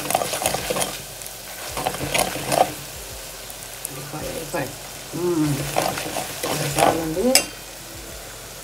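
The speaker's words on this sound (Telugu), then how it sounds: "కొంచెం మిరపకాయ కొద్దిగా వేగాల." Chillies fry in a pan and are stirred, a close sizzle broken by scraping strokes and knocks against the pan, with a voice speaking briefly over it.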